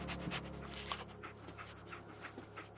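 The companion dog in the post-apocalyptic game Fallout 4 pants in quick rhythmic breaths, close and moderately loud, over a low background hum with no talking.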